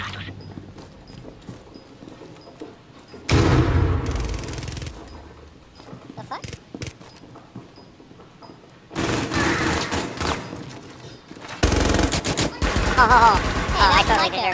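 Gunfire in Tom Clancy's Rainbow Six Siege crackles in loud bursts, with sharp shots and rapid automatic fire coming in separate clusters between quieter stretches of footsteps and game sounds.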